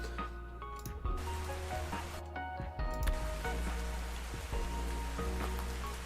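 Steady rain falls across Ark Survival Ascended castle structures, a dense continuous patter with a few small shifts, and no talking.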